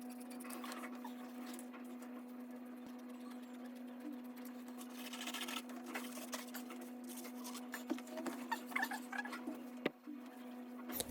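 Scissors cutting out the back piece of fabric elastic-waist baggy trousers, with soft snipping and rustling over a steady faint hum, a few sharper crunchy cuts toward the end.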